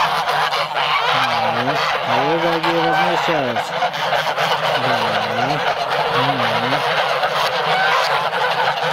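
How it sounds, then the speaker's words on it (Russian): Hungry geese honk loudly and close by in a garden, in several drawn-out, nasal calls with pauses between them. A person talks over the birds. "Ну, вот они какие голодные гуси."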